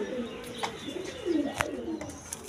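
A pair of giraffe-neck pigeons coo softly with rising and falling gurgling notes, close by, with a few faint chirps and sharp clicks in the background.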